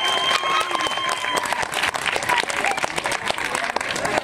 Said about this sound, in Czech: A nakonec do třetice je tu potlesk pro čertici.